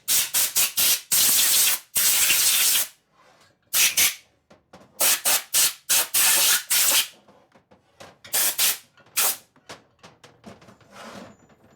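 High-flow air nozzle at 170 psi fired in short, sharp hissing blasts close by, many quick bursts in irregular clusters with brief silences between, no voices.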